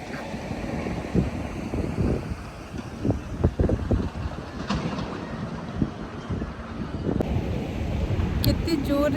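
Strong wind buffets the microphone on a lake bridge, a continuous low, gusty roar with irregular thumps and swells that stay loud throughout.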